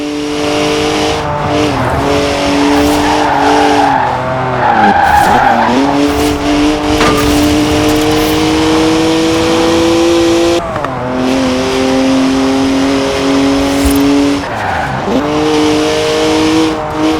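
In Forza Horizon 4, a 3-litre twin-turbo straight-six car with 335 horsepower revs hard and drifts, its loud engine note rising and falling while the tyres squeal and skid continuously up close.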